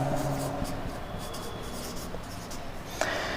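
Marker or chalk writing on a classroom board, continuous scratchy strokes with short pauses and a sharper tap near the end, close and moderately loud with low room noise.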